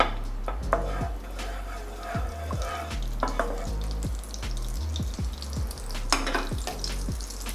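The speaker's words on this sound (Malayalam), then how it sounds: "നമുക്ക് ആദ്യം പനീർ ഒന്ന് വഴറ്റിയെടുക്കണം." Paneer cubes sauté in a pan of hot sunflower oil and butter with a steady sizzle, and a spoon repeatedly scrapes and taps against the pan at close range.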